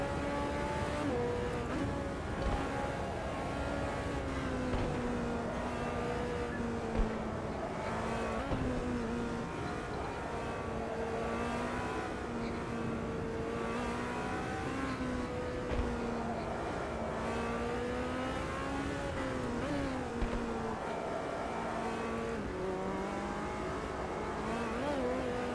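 Ferrari 488 EVO race car engine in the Automobilista 2 racing game, a continuous high-pitched whine rising and falling through gear changes across a lap, steady and moderately loud with no voices.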